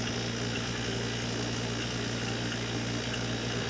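A refrigerator compressor runs with a steady low mechanical hum and constant vibration, close and even, with no talk.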